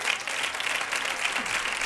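A studio audience claps steadily, a dense even patter of many hands held at a constant level for a couple of seconds, with no speech on top.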